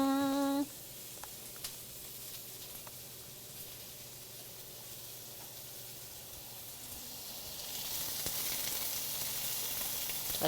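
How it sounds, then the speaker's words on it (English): Onions fry in a pan, giving a soft, steady sizzle that grows louder and hissier toward the end, after a brief tonal beep at the very start. "Let the onions start to caramelize."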